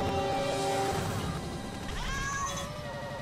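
A cartoon cat meows in the South Park video game, its cries layered over game music and effects, loud and close amid busy sound.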